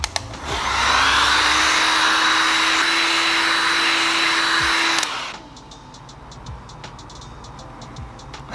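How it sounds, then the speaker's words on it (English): A heat gun blows hot air onto dirt bike graphics, a loud steady whooshing roar with a constant whine that runs about five seconds before switching off, leaving quieter ticking and clicks. "That got real warm with that heat gun."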